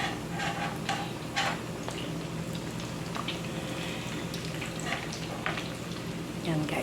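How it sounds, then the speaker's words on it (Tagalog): Bread, hotdog and cheese rolls deep-frying in plenty of oil, a soft, continuous bubbling sizzle with occasional small pops and clinks, fairly quiet throughout. "Mas okay din po pala guys na marami tayong mantika, yung lumulubog yung ipiprito natin"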